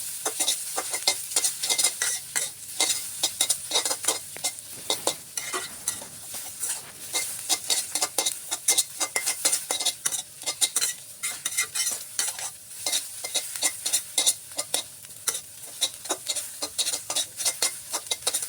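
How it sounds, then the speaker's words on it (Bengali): Boiled cabbage stirred in a frying pan with a metal spatula, giving steady scraping and clinking strokes over a constant sizzle, close and fairly loud, with no talking. "সিদ্ধ করে রাখা কপিগুলো এখানে দিয়ে দিচ্ছি সব কিছু একসাথে ভালো করে নেড়ে চেড়ে দেখে নেবেন"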